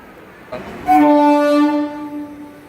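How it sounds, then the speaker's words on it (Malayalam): A departing train's horn blows one long, loud, steady blast over a low station rumble, then cuts off, leaving quieter background noise. "നമ്മൾ വന്ന ട്രെയിൻ ഇതാ പോവുകയാണ്"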